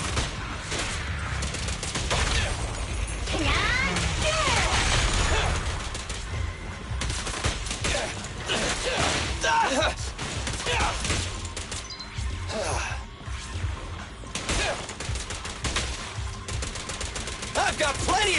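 Dense bursts of gunfire and crashing impacts from the video game ZZZero, loud rapid volleys layered with game effects and voices speaking over the action.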